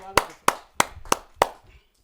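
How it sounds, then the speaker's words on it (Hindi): A handful of sharp, evenly spaced hand claps, five distinct strikes, greet a performer at a Hindi poetry and shayari gathering; they ring close and fairly loud, with a brief voice sound at the start. "आप सबकी जोरदार तालियों"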